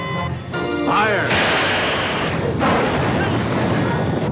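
Starship weapons from Star Trek fire in a loud, sustained barrage of booming blasts and crashing impacts. Shouted commands mix into the battle noise.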